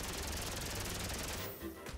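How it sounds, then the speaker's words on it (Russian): In GTA 5, a minigun fires in a rapid, continuous burst of dense rattling shots, then cuts off abruptly near the end, leaving a short quiet gap with faint noise. "Давайте посмотрим из минигана."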